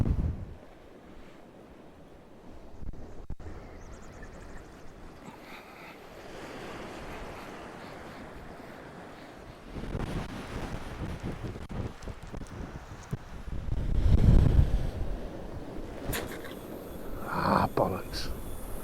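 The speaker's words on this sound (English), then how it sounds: "This wind is proper pumping." Strong wind gusting over a sea shore while fishing on the South Wales coast, a continuous roaring rush with surf underneath, rising into louder buffeting gusts toward the end; a voice talks intermittently over it.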